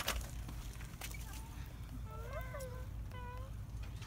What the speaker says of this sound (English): There's a cat rescue shelter. I always like to stop and see them.